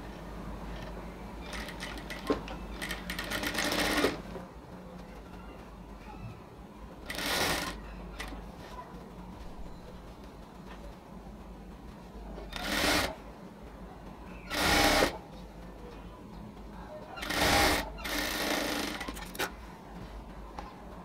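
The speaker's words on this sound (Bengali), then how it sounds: "ঠিক সেম ভাবে আরেকটা পোর্শন নিয়েও এবার আমরা হচ্ছে এটার সাথে সেলাই করে দিব।" A sewing machine stitches ladies' pant fabric in several bursts of fast whirring, alternating with quieter handling and rustling of the cloth, close and steady with no talk.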